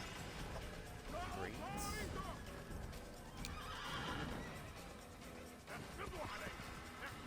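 A horse in the video game Assassin's Creed gives several whinnies amid clip-clopping hooves and mechanical clicks, with a person talking over the game sounds at a moderate level.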